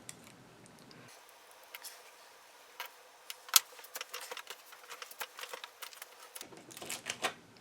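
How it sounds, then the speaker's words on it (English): Scissors snipping around a piece of Scotch tape on the back of a recycled paper card, a string of quiet, close, irregular clicks and snips in an otherwise hushed room. "I'm going to put a piece of tape on this one as well and just cut around it real quick."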